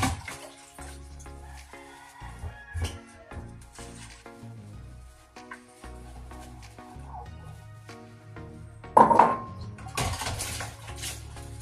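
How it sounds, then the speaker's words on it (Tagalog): Dishes being hand-washed in a home kitchen after a meal: plates and cutlery clatter and knock in the sink with running water, a loud clunk near the end, no talk. "maghugas na naman ako ng pinggan"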